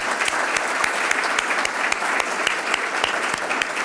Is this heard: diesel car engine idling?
no